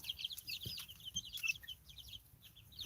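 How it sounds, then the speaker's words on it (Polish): Young chickens, just woken, peep and cluck in a busy high-pitched chorus, faint and continuous, with a soft shuffling rustle beneath. "Obudziliście kurczaki."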